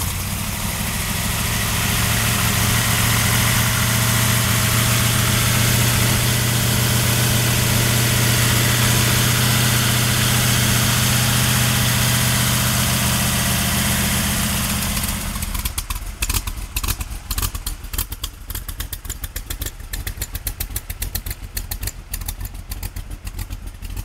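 Roush-powered 1965 Shelby Cobra Backdraft V8 rumbling at idle, loud and steady with a deep throbbing drone, then breaking into a choppier, pulsing lope for the final stretch.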